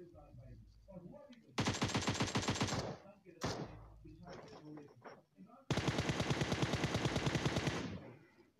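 Video game gunfire rips out in two long, loud automatic bursts with scattered single shots between them, while a voice talks quietly underneath.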